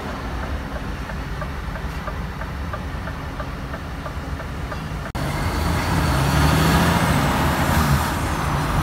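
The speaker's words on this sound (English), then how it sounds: "the tow truck is here. He's just hooking up now." A low rumbling engine drones steadily with faint rhythmic ticking, then a louder idling hum continues as a heavy tow truck hooks up a broken-down Scania S 580 V8 truck nearby.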